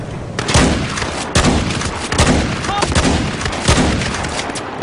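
Shotgun and other gunfire in Battlefield 4 sounds as loud, close, repeated booming blasts, roughly one every second, over a dense wash of battle noise.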